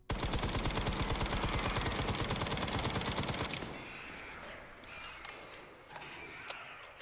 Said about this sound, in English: How powerful is this SMG?